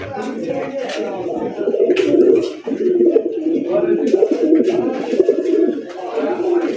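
A male grey-bar fancy racer pigeon coos close and loud in continuous throaty rolling calls, with someone talking over it.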